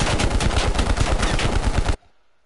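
Rapid, loud automatic gunfire from the video game Call of Duty: Black Ops Cold War, a dense continuous burst of shots that cuts off abruptly after about two seconds, leaving near silence.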